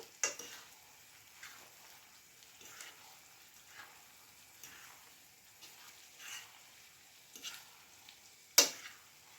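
Eggs for a spaghetti omelette cook in a frying pan, giving a faint, quiet sizzle under a series of soft utensil ticks and scrapes, with one sharper clink near the end; no speech.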